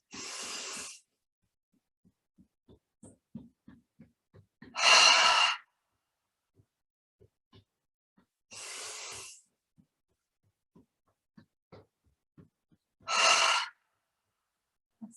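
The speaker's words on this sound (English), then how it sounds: "breathe in through the nose, out through the mouth" Slow guided breathing, alternating deep inhales through the nose and long audible exhales through the mouth, four clear breaths with quiet pauses between them.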